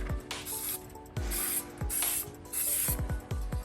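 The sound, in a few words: spraying spray adhesive from a can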